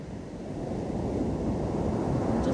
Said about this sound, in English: listen to these amazing waves